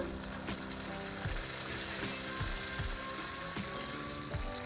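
Curry leaves and a few small dried red chillies crackle in hot oil with seasoning spices, a dense, continuous sizzle with sharp popping bursts and clicks, close and steady throughout with no talking.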